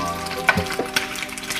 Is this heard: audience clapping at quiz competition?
no